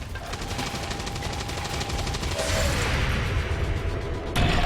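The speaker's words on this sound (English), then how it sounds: "Incoming fire!" Rapid gunfire from the XCOM 2 video game rattles in dense bursts over a rumbling combat soundscape, loud and sustained, with a sharp crash near the end.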